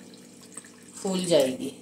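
Hot water pouring into a bowl to soak mixed ingredients in a home kitchen, a short splashing gush rising near the end while someone talks over it.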